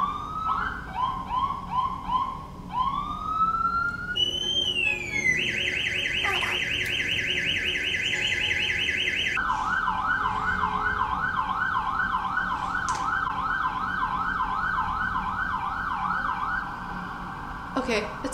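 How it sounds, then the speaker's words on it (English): An emergency vehicle siren wails outside, cycling through several tones from yelps to a steady high-low warble, loud and sustained for most of the stretch while a voice talks indoors. "Did you hear that siren?"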